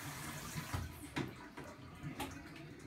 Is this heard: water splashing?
yes